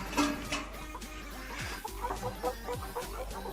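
Brahma chickens, a small backyard flock of light and gold hens and roosters, cluck in a steady, close chatter of short calls with low scratching noises underneath.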